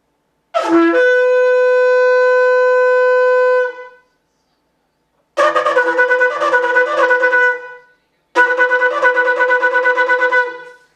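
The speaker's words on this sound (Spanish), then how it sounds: "Este es el sonido terúa." A shofar sounds a long steady blast, then two loud runs of rapid staccato notes forming the teruah call, each pulsing run lasting a couple of seconds, close and alone with silence between.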